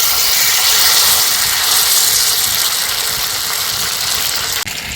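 Bread slices coated in sour yogurt sizzle in a hot pan, a loud, steady frying hiss close up with no voices, ending in a brief clatter.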